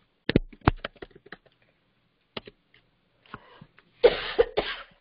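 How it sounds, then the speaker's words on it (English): A person coughs several times in sharp, close bursts, first a few scattered coughs, then a pause, then a louder harsh cluster near the end in an otherwise quiet room with faint clicks. "Sorry about all the coughing."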